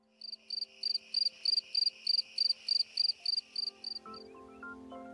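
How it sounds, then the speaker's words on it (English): A Gryllus pennsylvanicus field cricket chirps in an evenly spaced series of about a dozen short, bright pulses over a faint background hum, and the chirping stops just before a few soft tonal sounds at the end. "Their chirp is synonymous with late summer and early fall, and sounds a bit like this."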